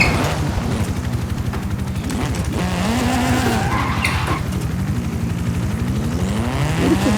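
A game car drifts in Forza Horizon 5, its engine droning loudly as the tyres squeal and skid through turns in a continuous close roar.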